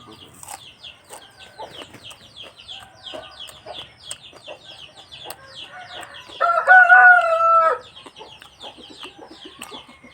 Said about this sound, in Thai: เป็นไก่เฮาบ่น่ะ